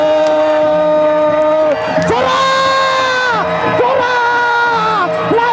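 A crowd cheers and shouts at a fight, a dense mass of voices with rising whoops and calls rolling over sustained tonal sounds, loud and close throughout, with some speech mixed in.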